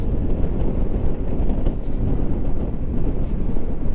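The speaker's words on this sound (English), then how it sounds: "Got a little bit of wind blast there" Steady, rumbling wind buffeting a microphone while riding a 2022 Honda Forza 350 scooter, a continuous low roar with gusty fluctuations and no other clear sounds.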